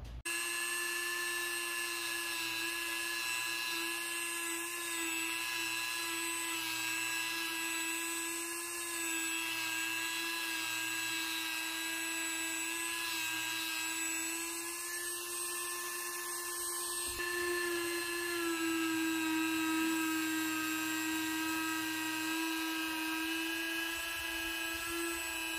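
A steady high-pitched whine of a Dremel rotary tool with an A576 sanding and grinding guide attachment, running continuously, close and loud, with slight shifts in pitch as it grinds a bevel on an edge.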